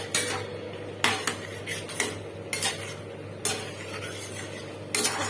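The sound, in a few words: cauliflower and potatoes added to curry in pan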